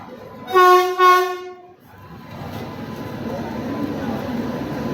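A train horn blasts twice, loud and near, then the rumbling clatter of a passenger train arriving at the station on the Vasai–Kudal route grows steadily and continues.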